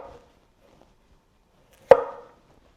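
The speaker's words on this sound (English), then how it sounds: "Try and get some thin slices here. It's pretty effortless, nice and smooth." A freshly sharpened restaurant knife slices through cucumber and cabbage: one faint cut near the start, then a single crisp, close chop onto the board with a short ringing tail, otherwise quiet.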